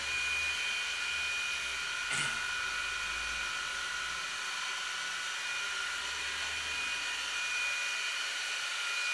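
A Deebot R96 robot vacuum cleaner runs indoors with a steady, faint whirring hum and a thin high whine, unbroken throughout, with one brief knock partway through.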